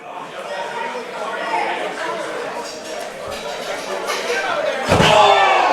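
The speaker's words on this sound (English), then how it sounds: "Dickie throws Kaide right into the merch table here. Slams his head against the table." A wrestler slammed into a merch table at a live wrestling match, a heavy crash near the end over constant crowd chatter and a commentator talking throughout.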